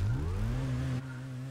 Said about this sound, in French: Écoutez-moi ce rugissement de Ford Ka.